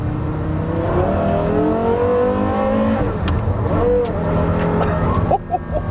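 A Porsche Carrera GT's V10 engine revs hard in second gear, its loud, sustained howl rising and falling across several pulls before a sharp lift-off near the end.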